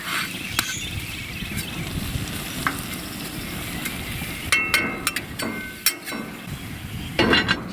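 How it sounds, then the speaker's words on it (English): Potatoes and onions sizzle steadily on a hot grill, with a constant crackling hiss and a few sharp metallic clinks near the end. "I do put my taters in before my onions and let my onions start cooking on top of them"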